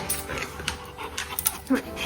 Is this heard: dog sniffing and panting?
yes